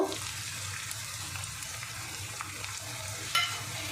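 Ground coriander, cumin and chilli powders are stirred into hot frying oil for a cauliflower dish with parshe fish. A soft, continuous sizzle runs throughout, with a few scraping stirs and a brief clink near the end.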